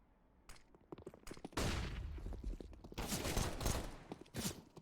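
Rapid bursts of gunfire during an esports match of a video game, sharp overlapping shots and fusillades across the clip, fairly loud and close with no talk.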